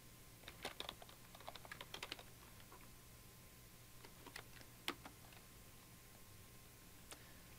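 Quiet typing on a computer keyboard in an indoor room: irregular bursts of light key clicks, clustered near the start and again around the middle, with one sharper tap and a few isolated strokes, over a faint steady hum.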